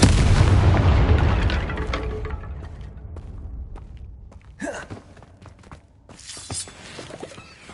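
A Confringo fire blast spell explodes in Hogwarts Legacy with a heavy, booming detonation that rumbles and fades over several seconds, followed by scattered thuds, crackles and a couple of sharper bursts.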